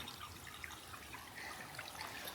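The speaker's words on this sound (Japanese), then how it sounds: "川ができてて" Small stream of water trickling across a forested mountain pilgrimage trail, a steady soft babbling wash with no voices.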